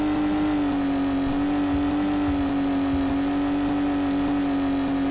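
Car-S Model S70 in Garry's Mod running at high speed around 130 to 135, a steady loud engine drone with a strong sustained tone and faint fluctuating road rumble underneath, no talking.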